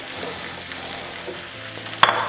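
Cocktail shrimp frying with onions in a pan while making a seafood lasagna, a steady close sizzle with stirring scrapes and a sharper burst of spitting near the end.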